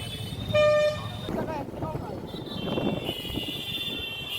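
In jammed traffic, a single loud car horn blares for half a second nearby, then fainter honks and engine noise continue beneath a speaking voice.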